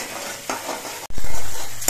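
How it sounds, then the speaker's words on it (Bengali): Spices sautéing in a pan for a hilsa-style fish curry, with stirring scrapes and a steady sizzle close by, briefly cut off midway before resuming louder. "মশলাগুলো আমি 3-4 মিনিটের মতো কষিয়ে নিয়েছি"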